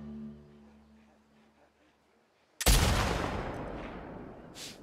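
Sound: rifle gunshots in video game The Last of Us Part 2

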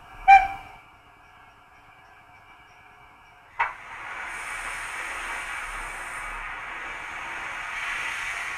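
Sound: PIKO model steam locomotive short steam whistle

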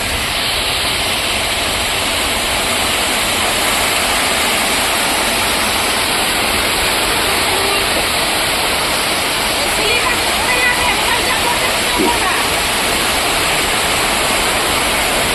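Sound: floodwater flowing around a flooded house at night

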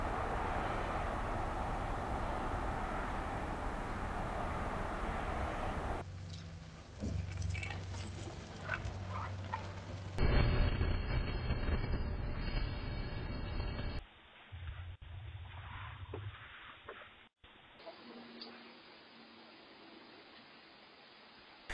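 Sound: outdoor ambient noise recorded by smart video doorbells

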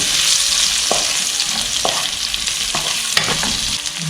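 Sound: stir-frying boiled potatoes with melted butter

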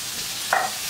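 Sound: vegetables frying in a pan

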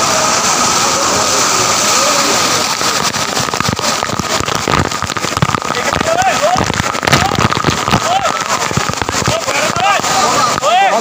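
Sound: waterfall, Kempty Falls, Mussoorie

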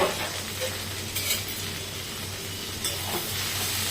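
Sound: okra sautéing in oil

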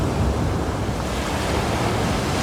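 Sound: sea waves on the beach at Hat Saeng Chan, Rayong

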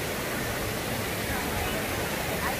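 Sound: waterfall rushing

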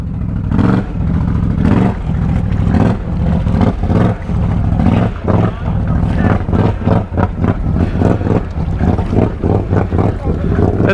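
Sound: Can-Am Outlander ATV engine driving through deep pond

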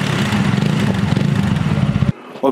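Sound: motorcycle engine accelerating on highway

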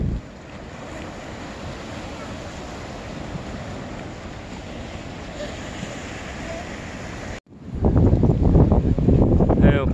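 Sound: strong wind at Sunset Beach, Okinawa

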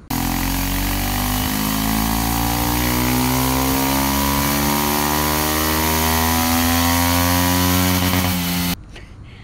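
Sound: Kawasaki Ninja 125 motorcycle engine running on a dyno

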